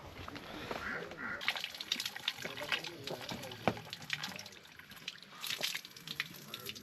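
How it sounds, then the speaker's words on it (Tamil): Water runs from a village tap pipe in rural Himachal Pradesh, a steady broadband splash and trickle held throughout, with voices talking over it. "இங்கே ஒரு குழாய் ஒன்று இருக்குது, வந்து தண்ணி குடிச்சிக்குவோம்."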